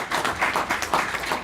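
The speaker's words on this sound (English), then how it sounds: "A warm applause for Alban" Audience at a European cybersecurity conference session applauding briefly, with a short, moderately quiet patter of clapping lasting about a second and a half.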